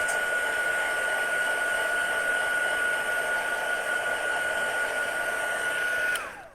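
A hair dryer blows on wet watercolour paint, a loud, steady whirring rush with a constant whine that runs unbroken for several seconds before being switched off and spinning down at the end.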